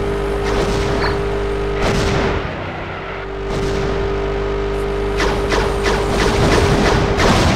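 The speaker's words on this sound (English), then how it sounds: "Kane scattering shots all over the place" Vehicle-mounted weapons fire off in WWE Crush Hour, loud booming blasts and thuds scattered irregularly over a dense roar of engines and game noise.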